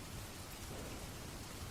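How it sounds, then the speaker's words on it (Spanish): Steady nighttime rain hisses evenly and faintly, with a soft low rumble beneath the patter. "Aquella noche llovía."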